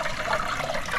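Water in a backyard fish pond is churned by hand to aerate it, making a continuous sloshing, gurgling swirl up close.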